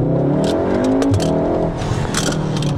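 A Volkswagen Golf 7R accelerating hard, its engine revving up loudly and continuously from close by, with no talk over it.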